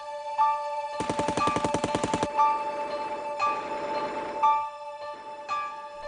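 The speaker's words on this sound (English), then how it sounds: "1925 echoed with gunshots." Rapid Tommy gun fire rattles in a burst of about a dozen shots over a sustained tonal background, followed by scattered louder single gunshots.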